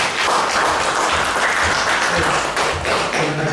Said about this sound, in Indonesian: Luar biasa, tepuk tangan untuk.